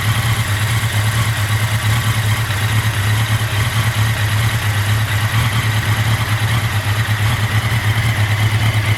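A 1983 Honda Nighthawk 650cc motorcycle engine idles steadily, a loud, close and continuous low hum with no revving and no talk.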